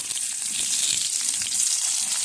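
Broad beans and eggplant pieces sizzle steadily in hot oil in a home kitchen pan, a close, constant frying hiss with no talking.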